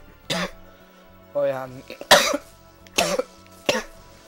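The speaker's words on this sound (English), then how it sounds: "It's just that I'm coughing" Several short, harsh coughs come close to the mic in an irregular series, with a brief spoken exclamation between them, from a person who has a cough but otherwise feels fine.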